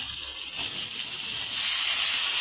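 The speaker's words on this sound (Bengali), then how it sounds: "ভালো করে ভেজে নেব" Long strips of eggplant fry in a pan of hot oil with kalonji and chopped onion, a steady close hiss and sizzle that swells slightly louder toward the end, with no talking.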